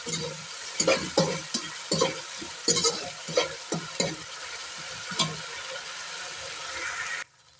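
Ketchup goes into a sizzling pan of chicken Manchurian and is stirred in, a steady frying hiss with rhythmic scraping strokes, close and moderately loud, cutting off abruptly near the end.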